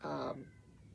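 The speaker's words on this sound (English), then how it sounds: "a loud meow" A single loud, close meow from a cat, quickly fading into a quiet room.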